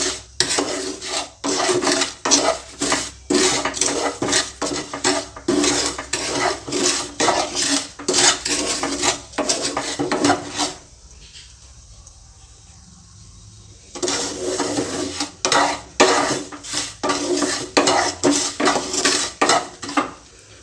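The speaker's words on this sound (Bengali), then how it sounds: "আমি সুজিটাকে লাল করে একটু ভেজে নেব" Semolina dry-roasting in a pan for ghee halwa, rhythmic scraping and rubbing strokes of a spatula against the metal, continuous and close, with a short pause in the middle before the stirring resumes.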